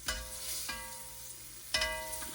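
Beef browning in oil in a pan for stew sizzles steadily and close, with a few sharp clinks of a utensil against the pan as pieces are turned.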